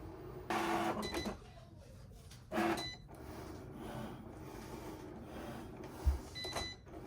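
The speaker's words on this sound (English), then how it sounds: "Now it's time to cut my stickers." A Cricut Explore 3 cutting machine slicing sticker sheets, quiet whirring motor runs in two brief bursts followed by a low hum, a small clunk and another short whir, fairly faint and without talk.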